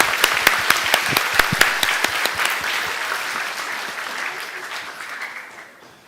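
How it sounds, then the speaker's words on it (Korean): A church congregation applauds during a Sunday service awards ceremony, a crisp burst of many hands clapping with sharp individual claps early, gradually thinning and fading away toward the end. "우리 다 같이 한번 박수로 여러분 격려해 주시기 바랍니다"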